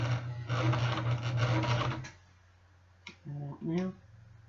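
A JCP 0104 heavy duty sewing machine stitches a leather jacket sleeve, running in a steady close whir for about two seconds before stopping. A voice speaks briefly afterward.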